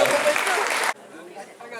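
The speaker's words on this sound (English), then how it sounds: "Give them a round of applause" Applause from the audience at a Chicano Commencement celebration, a short burst of dense clapping that cuts off abruptly about halfway through, leaving a quieter room with faint talk.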